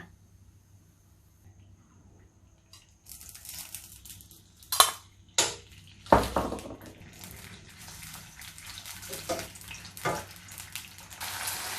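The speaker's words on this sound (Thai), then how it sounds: "เราก็มาทอดเต้าหู้กันค่ะ" Tofu frying in rice bran oil: soft crackling and sizzling with scattered pops and bursts of spatter, moderately close and building over the clip.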